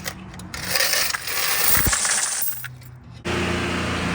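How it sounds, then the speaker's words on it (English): Coins cascade out of a car wash vending machine during collection, a busy metallic jingle and clatter of change spilling and rattling against metal, loud and close, with mechanical clunks and a pause before a final burst. "Whoa, money going everywhere. That was from the vending machine during the week."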